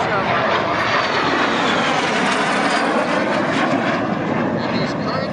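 A CT-133 Shooting Star jet in Red Knight livery flying at the London airshow, a loud steady roar that fills the whole span without letup, broad and close with no gaps.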